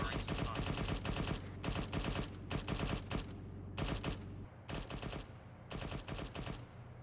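Gunfire in ARMA 3 comes in repeated rapid automatic bursts, loud and close, separated by brief pauses, with a low rumbling bed underneath.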